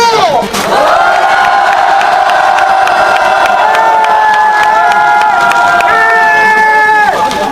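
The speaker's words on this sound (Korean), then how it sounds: "자랑스러운 통합진보당 의원단을 힘찬 함성으로 맞이합시다." A large crowd at a Unified Progressive Party rally cheers and shouts in a loud, sustained roar as lawmakers arrive, holding steady for several seconds with a few raised voices riding over the din.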